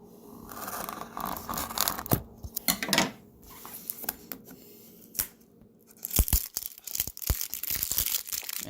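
Plastic packaging being torn and crinkled open while unboxing an Ess One, heard as irregular close crackles and rips with sharp bursts, louder toward the end.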